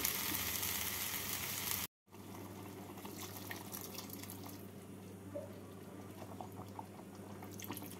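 Hot water poured into roasted broken wheat (dalia) in a pan for pulao, a steady hissing, sizzling wash of liquid that breaks briefly, then resumes with faint drips and bubbling.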